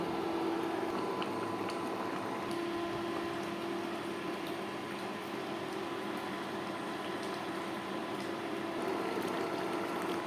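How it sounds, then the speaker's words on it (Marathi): Curry simmering at a rolling boil in an electric cooking pot, a faint steady bubbling and hiss with a constant low hum running beneath, unchanging and without voices. "लगेच उकळी आली."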